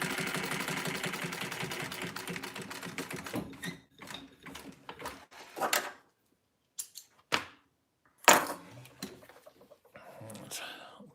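A sewing machine set to a 3.5 stitch length runs a rapid, steady stitching rhythm along a panel edge, then stops and restarts in short bursts while a person talks.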